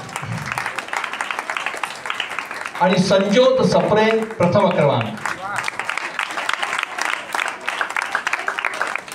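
An audience gives loud, sustained applause for prize winners at the closing ceremony of a children's sanskar class. The clapping runs throughout, and a voice announces a winner over it midway.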